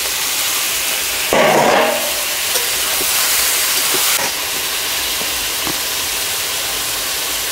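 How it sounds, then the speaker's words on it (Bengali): The lid comes off a pot of tomatoes cooking on the stove, releasing a brief loud rush of steam before it settles into a steady sizzling hiss. "ঢাকনাটা খুলছি"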